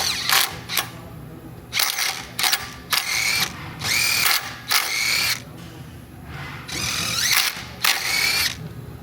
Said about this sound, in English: So I'm just going to clean these holes out.